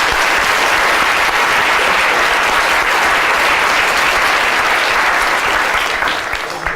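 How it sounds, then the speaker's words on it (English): Loud, dense applause from a large audience, sustained and even for several seconds before beginning to taper at the end. "Big round of applause for London South."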